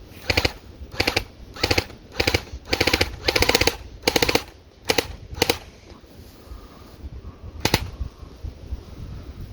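An ICS L86 LSW airsoft rifle fires bursts at targets, about ten short rapid volleys of sharp mechanical shots in steady succession, close and loud, with a lone burst near the end.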